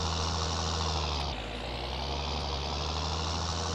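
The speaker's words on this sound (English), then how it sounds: "Go on, little tractor." Steady, loud tractor engine drone from a Farming Simulator 19 game, holding a constant low hum with a slight dip in pitch partway through and no talk.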